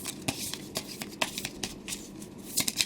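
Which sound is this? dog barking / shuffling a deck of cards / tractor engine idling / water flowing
shuffling a deck of cards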